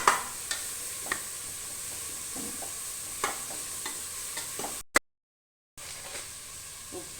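Onions sauté with salt in a pan, giving a soft continuous sizzle broken by light scraping stirs, then cutting out briefly before the frying resumes.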